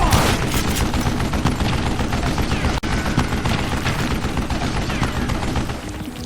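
Dense, sustained gunfire from Call of Juarez Gunslinger, a rapid rattle of shots and booms that runs almost without a break, loud and close, with one brief gap near the middle.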